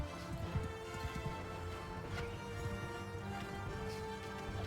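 Horses galloping in a battle in Mount and Blade II Bannerlord, a quiet patter of hoofbeats with scattered clashes and crashes amid a busy, faint battlefield din.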